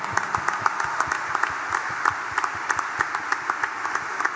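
A church congregation at a Mass for the Feast of the Assumption in San Juan de los Lagos claps together in sustained applause, a dense steady wash of many hands with sharper individual claps standing out.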